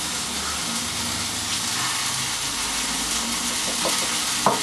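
Steady hot-oil sizzling fills the scene, a continuous crackling hiss of tuna frying in a very hot pan, with a small clink near the end.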